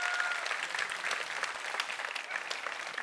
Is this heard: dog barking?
no